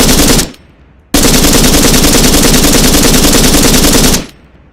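The 9.3 light machine gun from the Marksmen DLC fires in a video game: a brief loud burst, then a long, close, continuous stream of automatic shots lasting about three seconds before cutting off.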